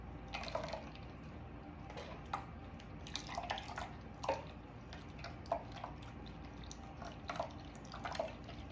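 Orange juice trickles and drips through a kitchen sieve, a faint, uneven patter of small liquid drops and splashes over a soft continuous background.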